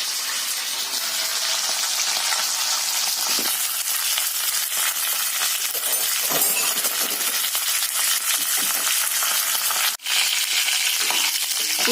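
Ridge gourd frying in hot oil as it is stirred in a pan, a loud continuous sizzle and crackle close up, with one sharp clink of the utensil against the pan near the end.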